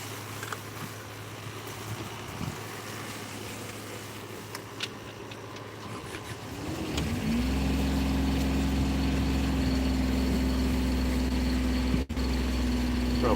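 The inboard engine of a Pearson 35 sailboat cranks briefly, catches, and settles into a steady, loud low rumbling idle that continues to the end.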